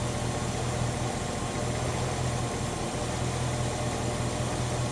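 A V8 engine idling during ignition timing adjustment, a steady low rumble with a broadband hum that holds constant and unbroken, close and alone.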